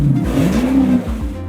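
A 450-horsepower engine with 465 foot-pounds of torque on a 2021 Super Air Nautique G23 wakeboard boat revs loudly and close, its steady drone rising and falling in pitch with no talk over it.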